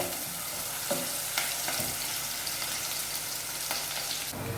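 Onions frying in a few tablespoons of oil for chana pulao, a continuous close sizzle with occasional stirring scrapes and soft clicks.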